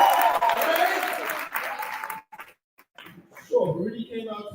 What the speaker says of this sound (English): Let's give Etienne another round of applause.